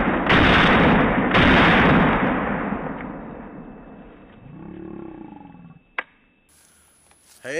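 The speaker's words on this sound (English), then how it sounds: "Okay, we'll fire a few rounds in a row, see what it does." An AR-15 in 5.56 fitted with a custom muzzle brake fires two very loud, close shots about a second apart outdoors. Each blast trails off into a long rolling echo that fades to near silence.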